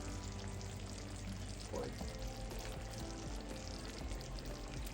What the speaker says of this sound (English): now I turn my stove way down, let it simmer